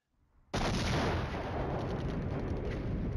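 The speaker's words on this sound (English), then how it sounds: "Oh, the mortars are firing." Mortars fire in the wargame Flashpoint Campaigns Red Storm. After a brief quiet lead-in, a loud blast of artillery-like noise erupts and carries on as a sustained, rumbling barrage.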